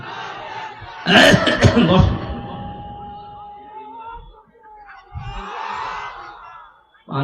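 A person coughs harshly several times in a loud, close burst, followed by quieter throat sounds and a second strained episode, against faint background noise.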